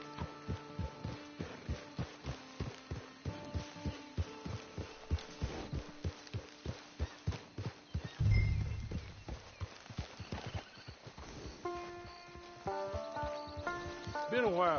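Horse hooves clip-clop in a steady, close rhythm as riders reach a camp with a hitching post, a loud thump partway through and then music and other sounds taking over near the end.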